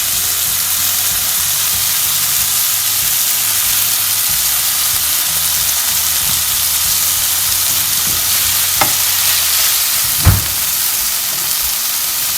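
Eggs and mixed vegetables fry with cooking sauce in a hot pan, giving a steady broadband sizzle across the whole span and a couple of brief sharp clinks or spatters near the end.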